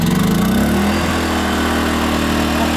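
A small FOGO F2001IS 1.8 kW inverter generator engine runs steadily close by, a constant buzzing drone with a slight pitch dip near the start, no voices over it.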